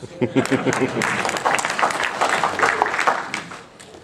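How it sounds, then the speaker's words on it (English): A crowd applauds with steady, dense clapping that carries on for several seconds, with a voice briefly audible at the start. "Please clap for yourselves."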